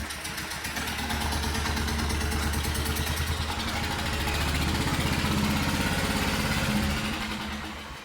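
A four-stroke engine runs steadily nearby with a fast, even chugging pulse and a low rumble that swells slightly and then eases near the end, with no talking.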